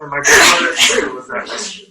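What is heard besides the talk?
sneeze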